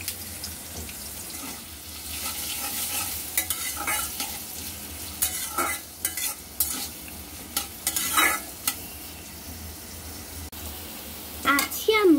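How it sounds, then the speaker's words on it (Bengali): Onions frying in a kadai (wok) for a dried-fish (shutki) dish, a steady close sizzle with intermittent scraping and stirring clatter, a faint steady hum underneath and no talk. "পেঁয়াজগুলোকে ভেজে নিতে হবে"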